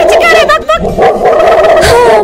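A person imitates a barking dog, letting out a rapid string of loud, yipping barks and whiny howls in a strained, high-pitched voice, close to the microphone.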